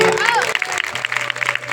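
Audience clapping at a Shrimad Bhagwat Katha religious discourse, rising beneath a speaker's talking voice and scattered across the brief moment.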